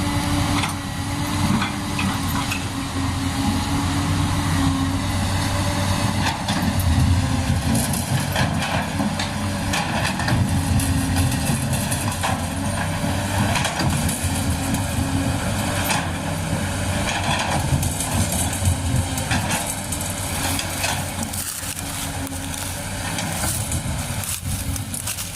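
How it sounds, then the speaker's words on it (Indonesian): Dredger engine clanks and rattles below on a dredging boat, a dense continuous mechanical rumble with metallic knocking, steady and fairly loud from start to finish. "Kita lihat Pak sopir kapal keruk di bawah itu suaranya pating gemelontang"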